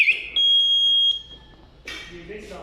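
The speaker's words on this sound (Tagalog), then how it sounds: "sa mga smoke detector po." A residential alarm system's smoke detector gives a loud, piercing electronic tone that holds steady for under a second, with another chirp just before it. Voices and room noise follow afterward.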